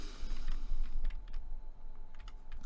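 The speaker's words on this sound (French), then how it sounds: "je continue d'augmenter avec les touches du clavier, les flèches du clavier" Computer keyboard arrow keys pressed repeatedly during a ZBrush 3D-modelling session: a quick run of crisp, close plastic clicks at an uneven rhythm over a low steady hum, with no voices.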